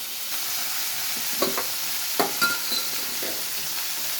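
Chopped broad beans and onions frying in oil, a soft continuous sizzle close by, broken by a few light scrapes and taps of a stirring spoon, with nobody speaking.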